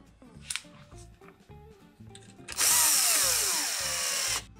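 Screws driven with a 3 mm hex bit while fitting a new bowl handle on a Magimix Cook Expert: a few clicks and light handling noises, then one loud, close, sustained whir of a power driver lasting about two seconds.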